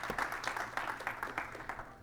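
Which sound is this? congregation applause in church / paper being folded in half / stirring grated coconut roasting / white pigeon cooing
congregation applause in church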